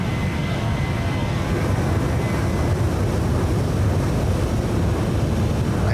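A PMDG 737 airliner cruises in a flight simulator game, producing a steady, even roar of engine and wind drone with no breaks or speech.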